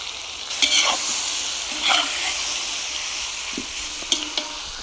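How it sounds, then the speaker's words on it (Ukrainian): Pork and onions sizzle steadily in a cauldron, with a few scraping stirs and clinks of a utensil against the metal. "Закладаю цибулю до м'яса і гарно примішую."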